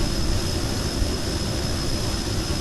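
Aircraft engine at full throttle in Kerbal Space Program, a loud, steady broadband roar with a thin constant whine above it and no variation over a few seconds.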